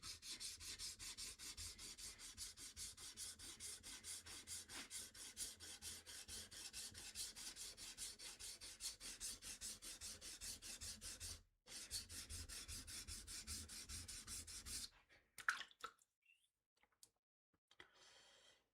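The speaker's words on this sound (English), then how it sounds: "if I put just enough pressure, I can feel the grits getting some material and grinding material" A blade bevel being sharpened on a 400 grit stone, giving a steady back-and-forth rasping scrape close up for about fifteen seconds with one brief pause, then a few scattered light knocks and quiet.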